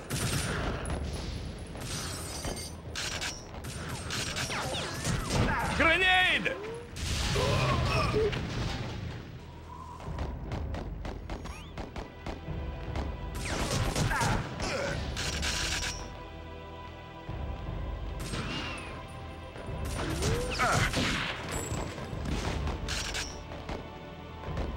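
Gunfire in the TimeSplitters: Future Perfect video game, in the Scotland level: repeated bursts of shots and booms in clusters across the clip, with mechanical clanking between volleys and a voice heard only faintly.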